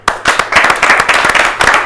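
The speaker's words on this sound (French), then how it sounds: "On applaudit." A live stage crowd claps and cheers loudly for a performer being introduced at a hip-hop concert event, a dense burst of applause starting abruptly and continuing steadily throughout.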